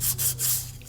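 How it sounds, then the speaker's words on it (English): Close, steady rasping strokes of sandpaper on the steering column of a 1969 GTO convertible being stripped of many layers of paint, a rhythmic back-and-forth scratch over a low hum, with no talking. "out sanding the column"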